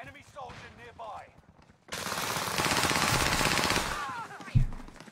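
Rapid automatic gunfire rattles in Call of Duty: Warzone as a dense burst of about two seconds, followed by a single sharp shot. Quieter game sounds come before it.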